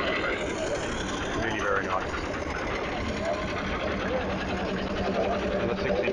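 A miniature Garrett steam engine runs at an outdoor steam rally, giving a steady, continuous mechanical chuffing and whirring throughout, with crowd noise and voices mixed in the background.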